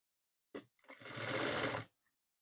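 A sewing machine stitches a shirt seam, a short tap followed by a quiet, steady run of stitching about a second long, heard close and alone.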